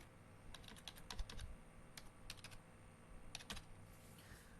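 A name is typed on a computer keyboard, a few quick clusters of light key taps with short gaps between them over a faint room hum, no speech.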